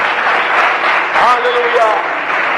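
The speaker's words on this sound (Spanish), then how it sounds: "¿Le puede dar un aplauso al Señor en esta noche?" A church congregation applauds during an evening service, a steady wash of clapping lasting throughout. A voice calls out loudly over the applause.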